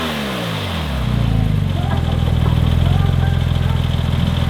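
A Porsche 911 Turbo (996) with aftermarket catalytic converters idles close by, a steady low engine hum that rises slightly after a second and holds with a soft, muted exhaust tone.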